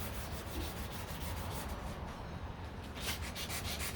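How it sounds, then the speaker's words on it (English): A 1969 C3 Corvette door is sanded with 400 grit sandpaper during body work, giving a faint, continuous scratchy rubbing with repeated back-and-forth strokes and no talking. "So right now I'm on 400 grit, trying to get all these little areas."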